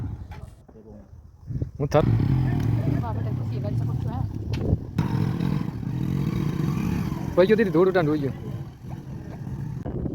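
Motorcycles with partly deflated tyres pull away across desert sand, their engines rumbling and revving in the background while people talk over them.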